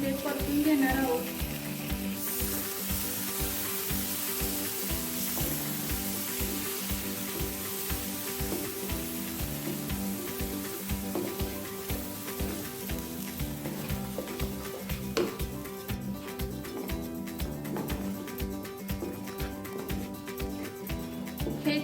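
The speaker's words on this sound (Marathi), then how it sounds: "आता ही टोमॅटो, खोबरं आणि काजूची पेस्ट आपण यामध्ये परतून घेणार आहोत।" A tomato, coconut and cashew paste sautés in spiced oil for a restaurant-style spicy veg Maratha curry. A soft, steady sizzle runs under a regular rhythm of stirring strokes against the pan.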